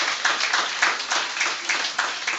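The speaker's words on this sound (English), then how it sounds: "Big round of applause for Kaisar Saab" A dense wash of audience applause fills the hall at an inter-college declamation contest, steady and fairly loud with a faint pulsing rhythm.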